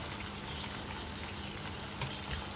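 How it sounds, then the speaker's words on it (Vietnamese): A pot of duck with breadfruit comes to a boil, giving a steady bubbling, sizzling hiss that stays even and moderately quiet throughout, with no talking. "khi nồi vịt đã sôi ta cho xả và đun liu diu nhỏ lửa"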